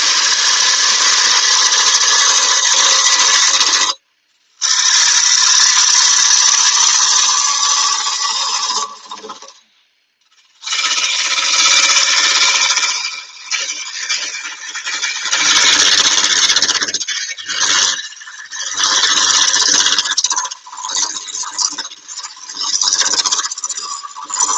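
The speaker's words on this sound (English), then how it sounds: "Don't know whether you're picking up the noise off of the chisel." Steady hand chisel work on a farmhouse plate, a dense scraping and paring sound with short repeated strokes, loud and close, pausing briefly twice before carrying on continuously with no voices.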